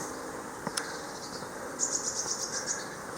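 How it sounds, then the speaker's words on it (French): Small birds chirp outdoors near a beach in Sicily. A quick run of high, thin, repeated notes comes midway over a steady hissing background, after a couple of sharp clicks earlier; no one talks. "Vous entendez les oiseaux là?"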